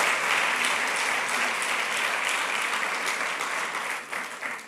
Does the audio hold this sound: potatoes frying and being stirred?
no